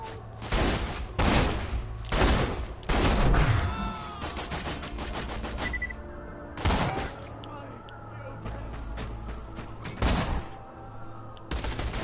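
Sniper rifle shots in the shooter game Borderlands 2, several loud sharp cracks spaced a few seconds apart, with gameplay effects and background noise between them.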